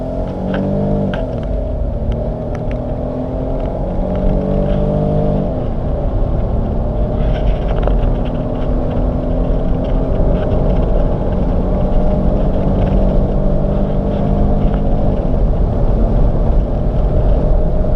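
A Smart ForTwo city car accelerates hard after a kick-down. Its engine drones loudly inside the cabin, the pitch climbs steadily through the gears with short dips at each shift, and there is no talk.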